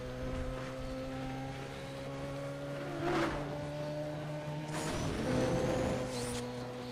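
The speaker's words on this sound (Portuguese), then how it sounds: "Olha a turbina, cara. A turbina é show demais" Car engine with turbo in Need for Speed Undercover, a steady droning whine with layered tones and two whooshing surges of boost or blow-off, loud and continuous with no talking.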